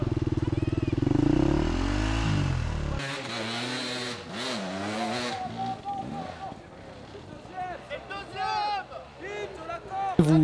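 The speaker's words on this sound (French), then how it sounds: "On peut l'entendre à son moteur qui rugit, c'est Tom Pastel. Il met plein gaz dans cette fameuse montée d'ambiance." An enduro motorcycle engine roars at full throttle climbing a steep hill during a hard enduro race, a loud sustained revving with rising and falling pitch and outdoor noise around it.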